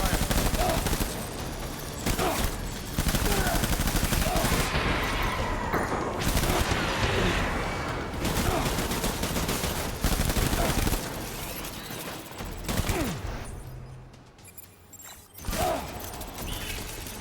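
Heavy gunfire crackles through a Death Stranding firefight as close, loud volleys and rapid automatic bursts run almost continuously, broken by a few short pauses and a brief lull near the end.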